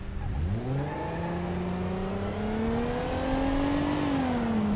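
A supercharged 3.8 liter V6 in the sport model of an 80s luxury sports car races in BeamNG Drive, its engine note climbing steadily as it accelerates through gears, loud and continuous with a rising whine.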